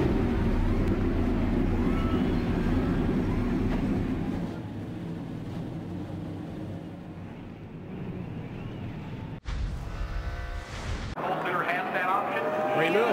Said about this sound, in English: Drivers and Danica, start your engines!